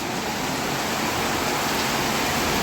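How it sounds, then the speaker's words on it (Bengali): Heavy rain pours down in a dense, unbroken roar that fills the whole clip, loud and close, with no voices. "আবার আবার বৃষ্টি।"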